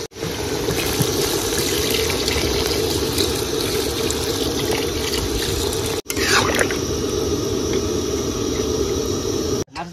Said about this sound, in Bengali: মাংস কিন্তু কষানো হয়ে গেছে, এবার জল দিয়ে দেবো।